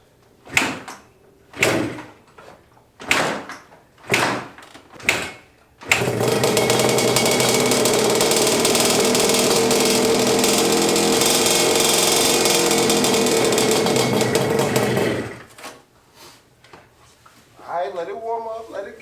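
A Yamaha Banshee two-stroke motorcycle engine warms up, running loud and steady for about nine seconds after several short bursts, with people talking before and after.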